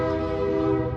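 A train rolls past outside a warehouse, a steady loud rumble with sustained horn-like tonal bands that hold throughout with no pause.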